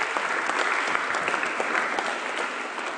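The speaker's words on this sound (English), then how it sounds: "Give them a great clap" A room full of people claps steadily at a school investiture ceremony, a sustained round of applause at moderate volume.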